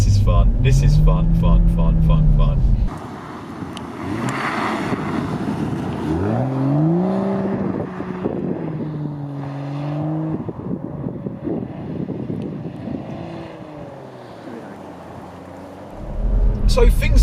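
A BMW 135i with a 3-litre twin-scroll turbocharged straight-six sweeps through revs while sliding, engine note rising and falling repeatedly under wind rush, with a person talking loudly up close at the start and end.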